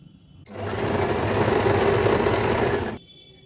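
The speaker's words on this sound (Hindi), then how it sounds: "तो देखिए इस तरह से हमने इस पर जो मेन सिलाई है उस पर भी हमने सिलाई डाल दी है" A sewing machine stitching a seam on palazzo pants, running in one steady, loud, close burst of about two and a half seconds that starts and stops abruptly, with no talking.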